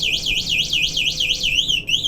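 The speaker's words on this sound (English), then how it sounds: "these scooters comes with an alarm. I can lock it. I can make it alarm." An electric scooter's loud electronic alarm whoops in a rapid rising-and-falling siren pattern, repeating steadily for about two seconds with no talking.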